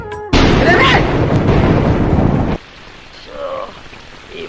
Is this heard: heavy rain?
yes